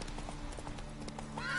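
Hooves of Geralt's horse Roach clip-clop in The Witcher video game, a short run of close, evenly spaced steps over faint background sound.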